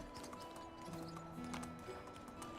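Hooves clip-clop at a steady pace as a horse moves along in Medieval Dynasty, quiet beneath soft game music, with no talking.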